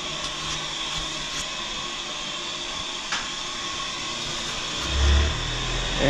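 A bathroom exhaust fan runs with a steady, even whir in a quiet house, joined by a brief low thump near the end.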